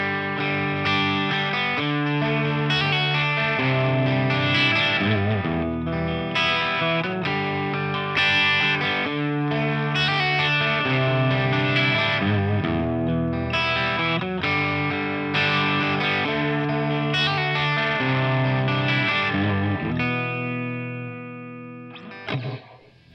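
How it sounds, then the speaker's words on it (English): A 1978 Stratocaster with Seymour Duncan Hot Rails pickups is played through a Marshall amp with the guitar volume backed off for a cleaner tone: a continuous run of strummed chords and ringing notes, loud and close, trailing off at the end. "So the only way we can get clean sounds out of both of these amps is by backing off the volume a bit"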